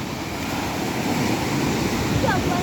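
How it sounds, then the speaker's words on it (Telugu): Strong ocean waves crash and churn at a Vizag beach, a loud continuous roar of surf with wind buffeting the microphone throughout. "చాలా ఫోర్స్గా ఉన్నాయి అలలు."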